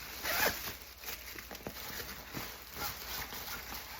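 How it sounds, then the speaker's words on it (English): A bag zipper is pulled open and closed several times in short raspy strokes, fairly close and quiet, with no talking. "you got the zipper right here"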